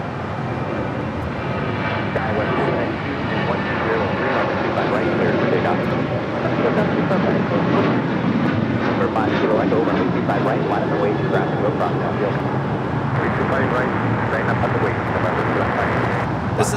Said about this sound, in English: This is Alaska Airlines 1332 taking off to Loretto on a 737-800.